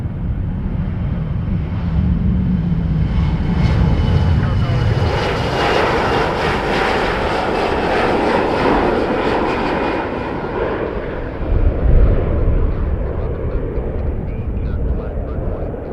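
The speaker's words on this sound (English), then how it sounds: "Jazz 938 headed to Newark, Embraer 175" An Embraer 175 jet at Montréal-Trudeau airport roars with a broad, steady engine rumble and hiss that swells and then slowly fades, loud and sustained, with faint voices in the background.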